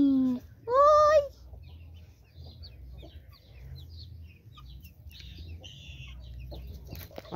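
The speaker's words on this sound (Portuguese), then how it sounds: "Olha só, tá lindo esse galo, ó." A backyard rooster gives a brief clucking call at the start, then the yard goes quieter with faint scattered bird sounds and light background noise; a person speaks briefly near the end.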